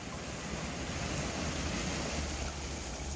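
Water sprays from RainDeck splash pad nozzles as a steady, broad, hissing rush that stays close and even throughout, with no voices or other sounds.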